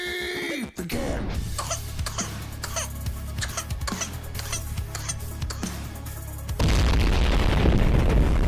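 A baby coughs in a quick string of short, harsh bursts, loud and close, before a heavy sustained roar takes over at the end.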